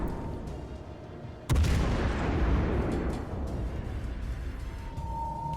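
A naval gun fires a single heavy boom in the World of Warships Legends video game, a sudden loud blast followed by a long rumbling decay over a steady background hum.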